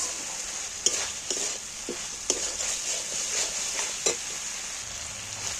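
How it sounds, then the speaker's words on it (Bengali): Spice paste for a fish roe curry stir-fries in oil, giving a steady bright sizzle with repeated scraping clicks from stirring at an irregular pace. "মশলাটা কিন্তু কষানো হয়ে গেছে, তেলও ছেড়ে দিয়েছে মশলাটা দিয়ে"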